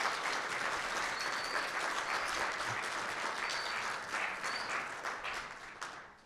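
Audience applause for Professor May Mei at her inaugural professorial lecture: a sustained wash of clapping from a lecture-hall crowd, steady and fairly soft, tapering off at the end.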